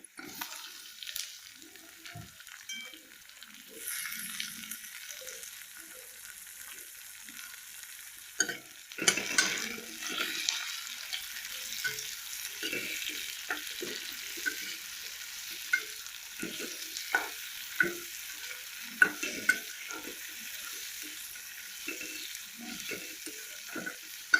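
Onions and tomatoes fry in a pan for kochu loti with a soft, continuous sizzle under scattered stirring taps and scrapes of a spatula, near and fairly quiet, without speech.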